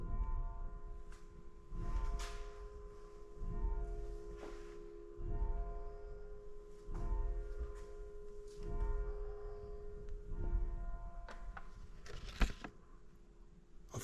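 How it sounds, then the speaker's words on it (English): Church bells in Blockley in the Cotswolds ring faintly in a slow, repeating pattern of strokes, heard from outdoors over low background rumble. "I thought I'd let you hear the church bells."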